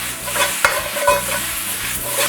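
Seasoned chow mein vegetables tossed and stirred in a hot pan, a continuous close sizzle with scraping and shuffling as the food is moved around, no voices.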